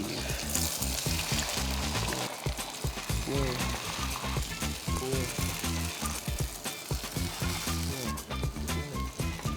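Egg sizzles and crackles over high heat in a wok while being stirred into wavy scrambled eggs, a dense, steady frying hiss with rhythmic scraping strokes throughout.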